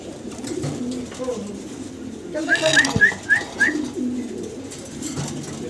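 A pair of black Mundian fancy pigeons coo in a short run of several soft, rising calls close by, with someone talking before and after.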